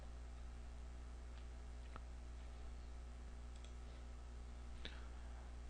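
A computer mouse clicks a few times, faint, isolated ticks spaced seconds apart over a steady low electrical hum.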